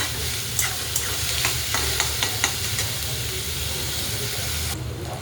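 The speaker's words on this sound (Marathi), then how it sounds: "कांदा घेतलेला आहे टाकून तेलामध्ये आणि जिरेमध्ये आपण एकदा ढवळून घेऊया." Onion frying in oil with cumin seeds, stirred in a pan: a steady close sizzle and hiss with a few light scraping taps of the spoon early on, no talking.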